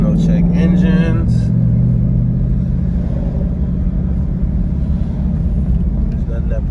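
A 2021 Dodge Durango 392 with a 180-degree thermostat installed cruises on the road, a loud steady engine rumble and road drone filling the cabin while someone talks over it.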